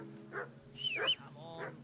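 A dog in the video game Kingdom Come Deliverance II gives a few short, yelping barks and whimpers, spaced apart at moderate volume and fairly close, with no speech.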